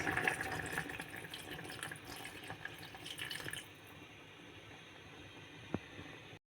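Water pours and splashes into a cooking pot of beef and salt for a few seconds, then stops, leaving quiet background hiss and a single faint clink.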